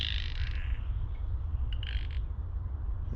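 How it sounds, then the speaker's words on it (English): Frogs at the Billy Frank Jr. Nisqually National Wildlife Refuge near Lacey, Washington, a dense chorus of croaks and trills from many animals under a low outdoor rumble, steady and moderately loud, with no talking. "I'm gonna stand here so I can hear the frogs"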